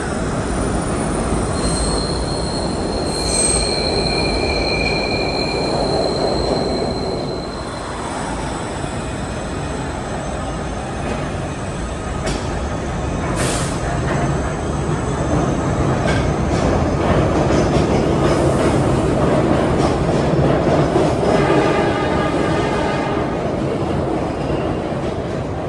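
A northbound B2 express bound for Fern Rock runs through a station on Philadelphia's Broad Street Subway. A steady, loud rumbling roar fills the whole stretch, with high wheel squeals and metallic screeches rising above it, and no one speaks.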